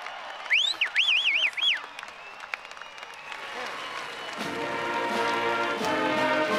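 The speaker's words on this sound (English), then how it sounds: "Let's give them one last round of applause" Applause for a graduating high school senior class at a commencement ceremony, a broad wash of crowd clapping that swells and holds steady, with whistles and brief voices rising over it early on.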